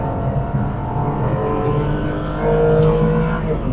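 An Aston Martin V8 Vantage drives on a race track during a track day, its engine a loud, steady drone from inside the car that swells as it accelerates near the end.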